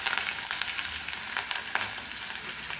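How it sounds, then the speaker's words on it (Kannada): Green chillies crackle in hot oil as a tempering, a faint, busy sizzle with scattered sharp pops that runs steadily for a few seconds. "ಇದು ಸ್ವಲ್ಪ ಚಟಪಟ ಅಂತ ಸಿಡಿಲಿ"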